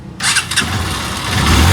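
A misfiring motorcycle engine revs loudly and roughly, starting after a brief quiet moment and holding a sputtering, uneven roar that swells toward the end.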